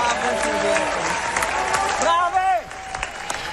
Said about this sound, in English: That was the ever-clapping, still happening audience at the Venice Film Festival